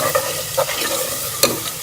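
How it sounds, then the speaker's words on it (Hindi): Spoon stirring spice masala with yogurt in a frying pan for a potta kaleji curry, soft repeated scraping strokes over a steady sizzle, close and moderately loud. "आपने मुसलसल चम्मच चलाते हुए मसाले को भूनें ताकि दही जो है वो फटे नहीं मसाले में।"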